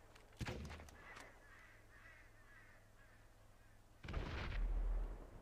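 Explosions in the video game GTA 5 boom out in two heavy bursts, one early and a longer rumbling blast near the end, with quiet game ambience between them.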